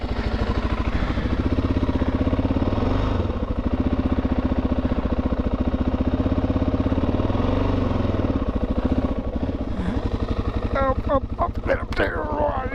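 A motorcycle on the Transamerica Trail runs steadily at a close, loud idle after a choke-assisted start, with an even low throb throughout and a short burst of voice near the end.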